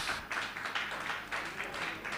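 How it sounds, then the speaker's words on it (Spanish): Applause rises for the helpers of a ladies' ministry at a church gathering in Bonaire, a dense, steady wash of many hands clapping together without a break for about two seconds. "Un aplauso para ellos."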